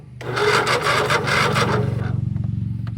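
The starter of a Kohler Courage 25 HP engine with a weak battery cranks in a steady, labored rhythmic churn, running loud and close before slowing slightly as it keeps turning over.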